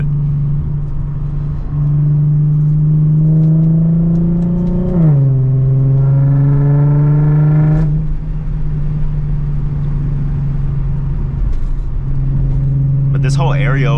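An Infiniti G37 with a loud exhaust drives by day, its engine a deep close rumble that climbs in pitch through gear pulls, dips on shifts and settles back to a steady drone.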